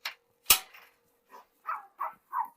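A German Shepherd dog barks a few times: one sharp, loud bark, then a short run of softer, evenly spaced barks, heard alone without talk.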